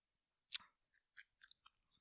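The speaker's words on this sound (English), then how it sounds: "Oh, I'm chewing mad." Someone chews food close to the microphone, making about six short, separate crunchy bites and mouth clicks with quiet gaps between them.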